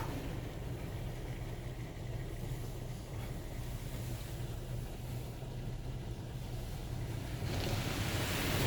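Automatic car wash in Belleville, Ontario, spraying surface sealant: a continuous rushing wash of water and air over the car, steady and enveloping, swelling a little louder at the end.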